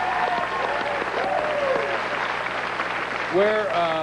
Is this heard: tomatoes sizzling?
no